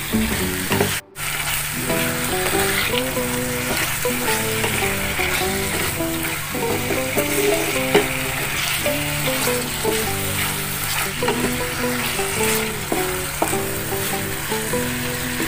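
Sambal with tuna and stink beans frying in a pan, a loud constant sizzle with frequent stirring scrapes and clinks, close up throughout with one brief break near the start and no talk.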